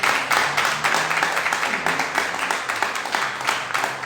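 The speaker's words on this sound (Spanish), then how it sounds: "Un aplauso fuerte a nuestro Dios." Loud, dense applause from a church congregation at a Sunday communion service, sustained clapping with a few voices mixed in, filling the whole stretch.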